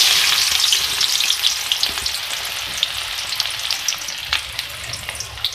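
Two medium onions frying in a pan give off a close, crackling sizzle with scattered pops and bursts, steady throughout with no talking.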